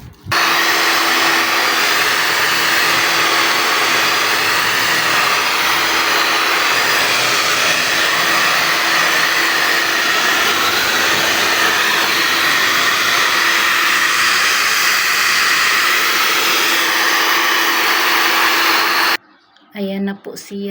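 Pet hair blower drying a dog's head after a bath, a loud, steady, close whooshing roar running continuously for most of the clip before cutting off abruptly near the end.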